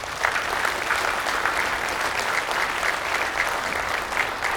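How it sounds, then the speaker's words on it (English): Sustained audience applause at a managers' conference, dense and even, many hands clapping together for several seconds. "And I think we deserve a round of applause for Tuan Roslin."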